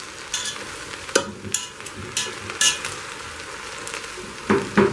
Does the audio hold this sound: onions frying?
yes